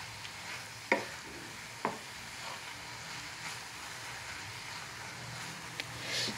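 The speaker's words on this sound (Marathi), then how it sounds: "आणि याला छान मिक्स करून घ्यायचं आहे." Bottle gourd curry with masala being stirred in a pan, a soft continuous frying hiss broken by a few sharp clicks of the spoon against the pan.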